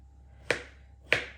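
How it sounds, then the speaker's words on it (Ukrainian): Two sharp knife chops slicing potatoes into rounds on a cutting board, evenly spaced about half a second apart, close and crisp against a quiet background. "Ось так нарізаю просто кружечком."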